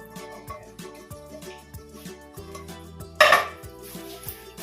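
Cheese popcorn being tossed and mixed in a bowl, with light rattling scrapes and one sharp louder clatter partway through, fairly close.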